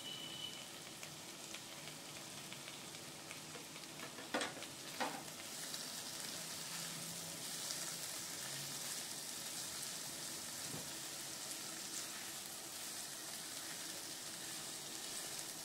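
Tomato and capsicum fry in a pan for semolina upma, giving a quiet, steady sizzle and crackle with a few brief clinks of stirring, faint and close, with no talk.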